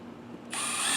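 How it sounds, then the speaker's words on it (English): Power drill driving screws into a chimney roof structure, the motor whirring up sharply and running on loud and close after half a second of quiet. "I'm going to keep firing in these screws."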